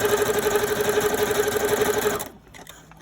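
A sewing machine runs a stretch stitch along the edge of Ankara wax-print fabric for a bikini, making a steady, close, rapid whir for about two seconds before it stops abruptly.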